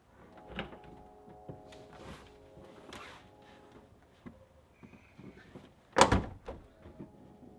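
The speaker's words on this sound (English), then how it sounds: "the door was locked and I couldn't get it open" Scattered clicks and rattles of a latch being worked on a locked 2008-or-later Subaru STI hatch build to a sharp thunk of a hatch that doesn't give, followed by smaller knocks.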